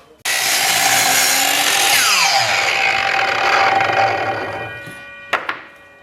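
A power saw cuts the end off a 4'6" wooden batten, a loud close continuous whine with the pitch dropping as the blade bites, then it spins down and a couple of knocks follow.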